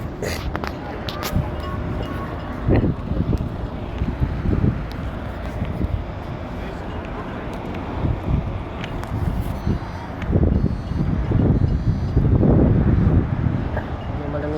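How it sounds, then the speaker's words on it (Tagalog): Strong gusty wind buffets the microphone while cycling at Marina Bay, Abu Dhabi, a rumbling roar that swells and fades in waves, louder toward the end, with a person talking over it. "Medyo malakas ang hangin."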